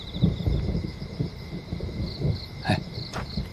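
Thunder rumbling low and continuously before rain, a steady deep roll with a couple of sharper cracks near the end, no voices over it.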